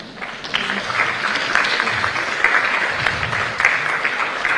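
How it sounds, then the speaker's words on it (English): An audience of students applauds their parents at a medical school summit, a broad, sustained clapping that swells slightly in the middle, heard in a large hall. "give them a big round of applause"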